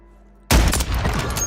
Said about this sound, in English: Friendly mortar strike inbound.